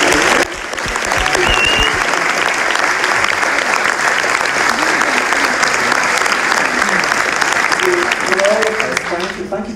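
A theatre audience applauds loudly and continuously at the end of an evening with actor Brian Cox at The Rep in Dundee, dense clapping with some cheering and voices mixed in throughout.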